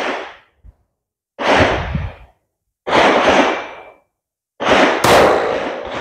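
Two pistol shots fired at a target on a shooting range, each a sharp, loud crack with a short ringing tail, spaced about a second and a half apart, alone with no talk.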